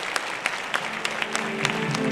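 Steady applause from the audience at a women's peace conference after a speech, a dense wash of clapping with occasional louder single claps and a faint tone emerging near the end.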